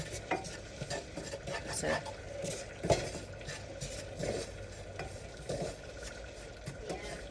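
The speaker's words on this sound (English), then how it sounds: "if you don't have it constantly stirring like that, then one little spot could burn." A roux for gumbo is stirred constantly in a pot, a quiet continuous scraping of spoon against the bottom with soft knocks and a faint sizzle, a voice briefly heard.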